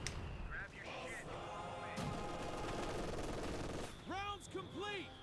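Mortar fire and other gunfire in the World War II strategy game Company of Heroes 2, repeated booming shots and crackling battle noise mixed with game voices talking.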